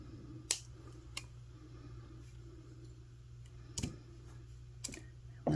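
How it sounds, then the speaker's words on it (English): Extra beading wire being cut at the end of a gemstone necklace, giving a few sharp, quiet snips and clicks spaced irregularly over low background hum. "I'm going to cut off my extra wire"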